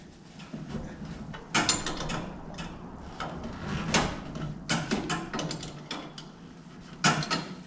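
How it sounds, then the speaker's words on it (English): Ratcheting clicks and metallic mechanism sounds from loosening a bolt at the bottom of a shifter mount on a Coyote-swapped Challenger with a 4R70W transmission, intermittent bursts of close clatter against quiet background. "And then I just have to actually loosen this one here at the bottom."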